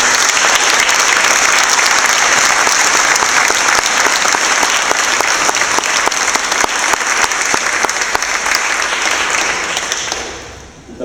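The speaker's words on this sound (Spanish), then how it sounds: "les pido un gran aplauso" An audience in the University of the Republic's auditorium gives a big, loud ovation for a member of parliament, thick continuous clapping from a packed room that stays strong before tapering off at the end.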